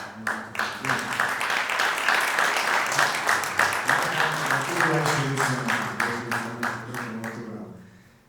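Steady applause from a crowd at a gala concert, dense clapping that holds for several seconds before thinning out and fading at the end.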